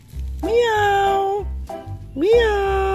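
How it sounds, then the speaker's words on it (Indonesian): Two clear meows from an orange cat, high and drawn out, separated by a short pause, close and loud. "Ada kucing warna orange."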